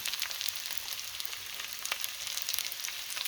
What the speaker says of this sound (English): I want this to get real crispy. Making fried rice, by the way.